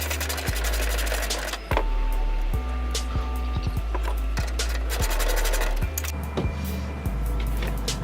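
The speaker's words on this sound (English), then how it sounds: "You gotta get rid of this 10 bolt first." Ratcheting and whirring of a tool loosening a 10 mm bolt during suspension work, with repeated sharp clicks and a continuous loud mechanical drone, close up with no talk.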